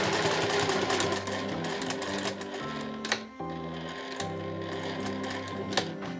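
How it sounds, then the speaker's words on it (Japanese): A sewing machine stitches a tetra-shaped zipper pouch made from fabric scraps, running in a loud, fast, steady whir close by, with one brief pause midway before it resumes. "あとはまっすぐ縫うだけなので綺麗に縫っていくことができます"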